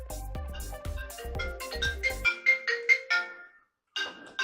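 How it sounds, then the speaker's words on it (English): A phone rings during an unboxing shoot, a repeating electronic ringtone melody of several bright tones, fairly close, after a short burst of louder musical sound, then a pause and another ring. "Scotty has got to take a phone call while we're shooting again"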